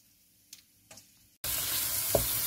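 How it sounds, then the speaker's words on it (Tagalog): After a couple of faint clinks, tomatoes, onion and meat drop into a hot pan and sauté with a sudden loud, continuous sizzle and a brief stir, close up and without talk. "nangkutsa na natin yung kamatis, sibuyas, saka yung karning kinuha ko kanina"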